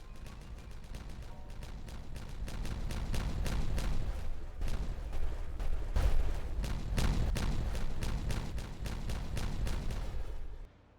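A chain of explosions goes off in a Timberborn beaver colony, a rapid, dense run of sharp blasts and pops that swells in the middle and then cuts off abruptly, with no talk over it.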